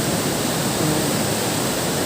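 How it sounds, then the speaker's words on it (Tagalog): Water gushing hard through the damaged wall of a bridge at Wawa Dam, a loud, steady roar of rushing flow filling the scene close by with no break. "Lumatagos pa ang tubig, oh. Press na press ang tubig."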